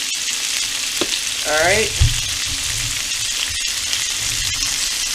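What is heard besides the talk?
shrimp frying and sizzling in a pan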